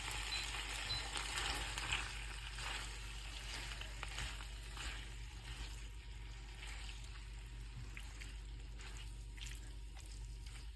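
Pasta with bacon, chorizo and oregano sizzles steadily in a pan as it is stirred, with a continuous close frying hiss and faint scraping throughout.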